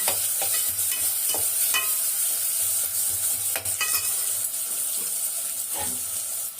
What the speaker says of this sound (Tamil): இப்போ வெங்காயம் கொஞ்சம் நல்லா வதங்கட்டும். பொன்னிறமாக வதங்கணும் வெங்காயம்.